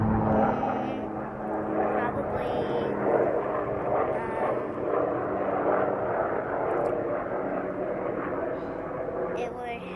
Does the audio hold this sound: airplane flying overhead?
yes